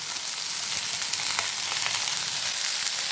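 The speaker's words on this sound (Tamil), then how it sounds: "தேங்காய் துருவல் போட்டு நல்லா கிளறி விடுங்க" A cluster bean stir-fry sizzles steadily in a pan as grated coconut is stirred in, a continuous close hiss with faint scraping of the spoon and no talking.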